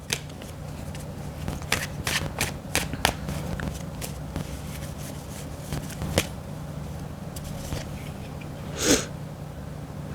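Tarot guidance cards are shuffled by hand in a string of quick papery riffles and flicks, close and fairly soft, with brief pauses between bursts.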